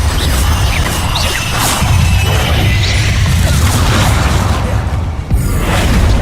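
The Bombarda blasting spell from Hogwarts Legacy erupts in loud, continuous booms, crashes and whooshing debris, layered and close, with a brief dip before the blast resumes.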